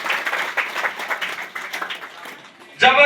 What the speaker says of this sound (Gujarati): જોરદાર તાળીઓના ગગડાટથી આપણે વધાવીશું